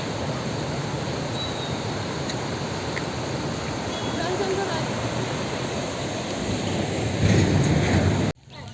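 A heavy, continuous roar of water pours out of the Tilpara Barrage, a dense rushing wash mixed with wind buffeting on the microphone, swelling slightly near the end before cutting off abruptly.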